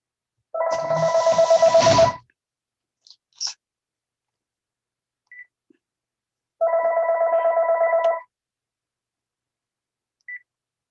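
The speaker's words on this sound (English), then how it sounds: "Guess I should turn off my phone." Mobile phone ringing during a talk on Rhinebeck cemetery history, two bursts of a rapid electronic warbling ring several seconds apart, with small clicks and short beeps in between and near the end.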